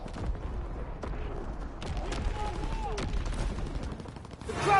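Gunfire in a Call of Duty WW2 multiplayer match, with scattered shots and a busy mix of battle noise throughout, with voices talking underneath and a louder burst at the very end.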